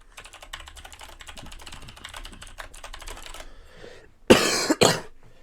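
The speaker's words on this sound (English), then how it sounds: "So, don't mind me coughing" A game commentator coughs twice, close and loud, right after a stretch of rapid keyboard typing during a League of Legends-style draft broadcast.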